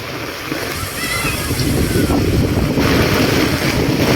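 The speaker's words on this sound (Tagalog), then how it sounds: "lumakas na naman yung ulan at hangin." Heavy typhoon rain roars steadily while strong gusts buffet the microphone, the rushing noise swelling louder partway through.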